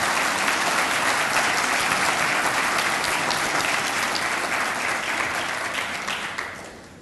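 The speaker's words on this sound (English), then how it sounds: "how about one more round of applause just for everybody's awesomeness?" An audience at a Gamma Beta Phi induction ceremony breaks into loud, sustained applause that fills the room for several seconds before gradually tapering off at the end.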